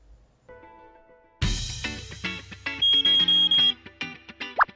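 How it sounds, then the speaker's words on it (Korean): A morning alarm clock rings with bright electronic tones. A quiet lead-in gives way to a loud, steady run of beeps with no voices. "아침에 알람 소리가 들리면 잠자리에서 일어나고"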